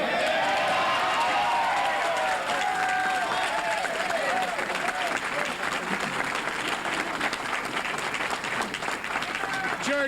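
An audience claps steadily throughout at a 1988 presidential campaign withdrawal speech, dense sustained applause filling the room with scattered voices mixed in.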